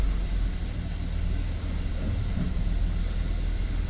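A Honda Odyssey minivan, 2011–2017 generation, drives just after a transmission oil and filter change, giving a steady low engine and road rumble heard from inside the cabin.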